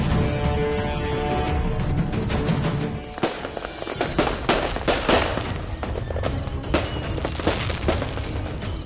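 Firecrackers burst in dense, rapid crackling volleys, loud and nearly continuous, then break into sharper separate bangs and pops.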